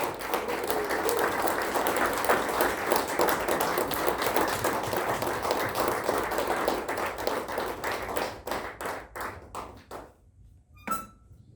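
Audience applause welcoming a leader on stage at a motivational seminar, dense clapping that builds and holds, then thins into scattered individual claps and fades out.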